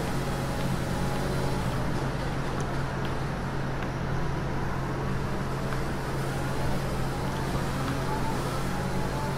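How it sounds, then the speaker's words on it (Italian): Air conditioner running in a room during an F1 2020 gaming session, a steady low hum with broadband hiss, constant and moderately loud for the whole stretch with no talk. "Se sentite in sottofondo un rumore strano nel mio microfono è il condizionatore"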